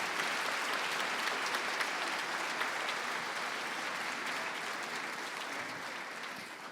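Sustained applause from a concert audience at a New Year music-school concert in Shtip, steady broadband clapping that fills the hall, honoring the teachers, with no voices over it and a slight fade toward the end.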